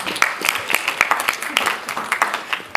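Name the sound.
audience applause for a speaker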